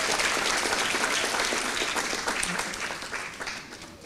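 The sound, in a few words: congregation clapping at a revival meeting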